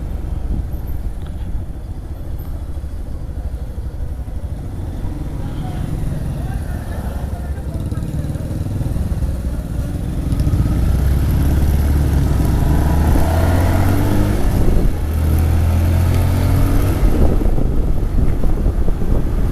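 A motorcycle rides along a slippery, rain-wet, damaged road in Ambedkar Nagar: a steady low engine rumble under heavy wind buffeting that grows louder about halfway through, with faint voices at times.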